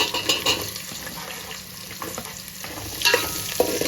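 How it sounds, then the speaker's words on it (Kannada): Chopped onions fry with a bay leaf in a pan for a mushroom fry, producing a soft, continuous sizzle with occasional stirring scrapes, a little louder near the start and end. "ಈರುಳ್ಳಿ ಎಲ್ಲ ಕಲರ್ ಚೇಂಜ್ ಆಗಿ ಸಾಫ್ಟ್ ಆಗೋ ತನಕ"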